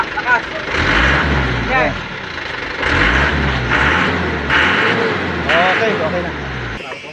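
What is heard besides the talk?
truck engine revving up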